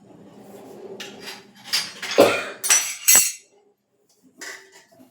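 A metal pot set down on a gas stove in a home kitchen, heard as several close clattering clanks and scrapes of cookware, louder in the middle, then a short pause and one last softer knock.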